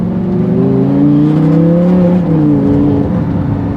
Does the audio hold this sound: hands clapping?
no